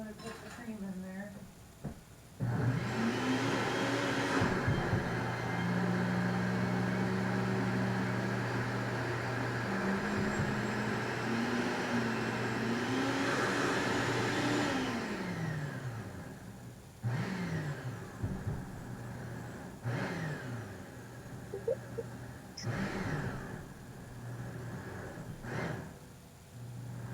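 A blender mixes a smoothie with cream, its motor revving up and whirring with a rising and falling pitch for several seconds before cutting out, while people talk around it.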